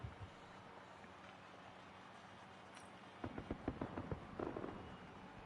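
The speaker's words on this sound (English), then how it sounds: "We see more fireworks like you see behind the points there." Fireworks from an F1 racing video game in an esports Bahrain sprint broadcast, a run of sharp popping bursts and crackles rising after a quieter stretch, fairly loud over a steady background hiss.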